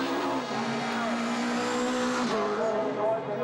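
Rallycross cars at the European Rallycross Championship in Germany accelerate out of the last corner, engines loud and revving with pitch changes and tire noise, while a commentator talks over them.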